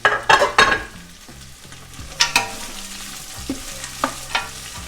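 Onion, carrot and celery mirepoix sizzles in a pot while a spoon stirs it, with a few sharp scraping clatters over a steady, soft frying hiss.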